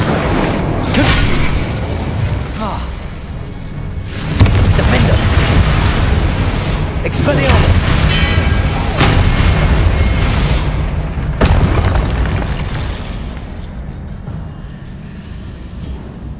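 Incendio fire spell blasts in the Hogwarts Legacy video game, heard as a continuous roar of booming, fiery explosions with several stronger surges, loud and sustained throughout.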